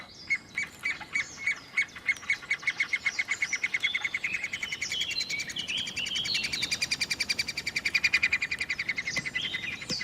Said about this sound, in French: Le pic tridactyle nourrit ses petits avec les larves dodues de la ragie mordante.